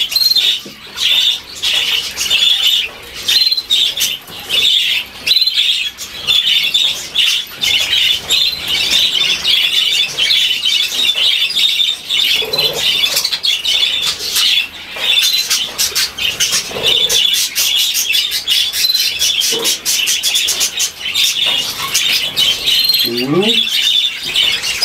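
A pet budgerigar chirps and chatters continuously, close and loud, with sharp squawks and squeaky trills running throughout and a few brief scuffling sounds.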